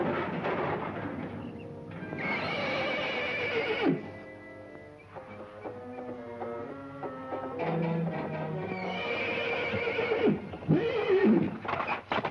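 A horse neighs loudly several times at close range, long shrill whinnies separated by pauses, while hooves clop on the ground in between, with no talking.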